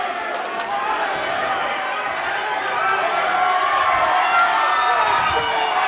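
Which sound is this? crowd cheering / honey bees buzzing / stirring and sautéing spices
crowd cheering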